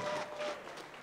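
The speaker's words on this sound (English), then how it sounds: "let's have a huge round of applause for both of them" Crowd applause for two amateur boxers after a 63kg Muay Thai bout, a steady wash of clapping and cheering that stays loud throughout and then eases slightly.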